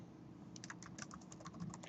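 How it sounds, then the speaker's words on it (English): Quick, light keystrokes on a computer keyboard in an office, a brief run of about a dozen soft clicks against faint background hum, with no talking. "So I could type in right here"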